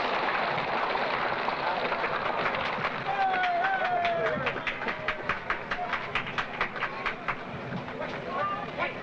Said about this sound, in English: The train is moving now into place for loading